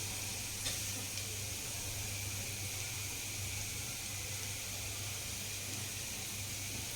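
Garlic and ajwain (carom seeds) roasting in hot oil for a Gujarati cluster bean curry give off a soft, steady sizzle, faint and continuous throughout, with no talking.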